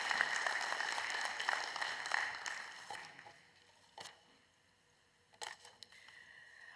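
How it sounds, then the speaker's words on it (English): A business-meeting audience claps after a presentation, dense applause that thins out and fades, leaving a few scattered claps and small sounds. "give him a round of applause"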